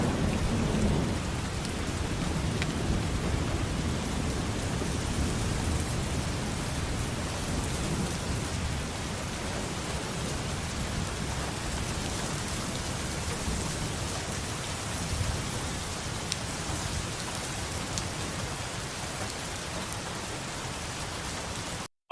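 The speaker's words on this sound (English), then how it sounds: "it is like torrential downpour, windy as hell, lightning, thunder" Torrential rain pours hard and steadily with wind and rolling thunder, a dense, loud, unbroken hiss of downpour filling the whole stretch with no voices.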